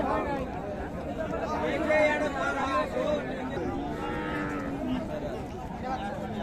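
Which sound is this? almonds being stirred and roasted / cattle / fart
cattle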